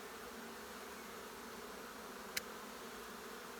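A honeybee swarm hums as a steady, faint drone of frantically fanning wings, with one brief sharp click partway through.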